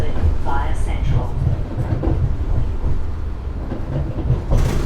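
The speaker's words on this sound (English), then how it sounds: "I'll join you again when we get on the tram" A Sydney tram in motion, with a steady rumbling ride noise and faint rattles throughout, heard from inside the carriage at a fairly loud, even level.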